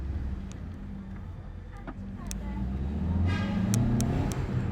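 A Fiat Albea pulls away from a standstill, its engine note rising steadily as the car gathers speed, with a low steady rumble throughout and some faint background chatter.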